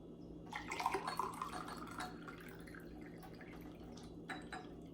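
Hot water trickles and splashes into a cup, with a rising pour in the first couple of seconds and softer dribbles afterward over a low steady hum.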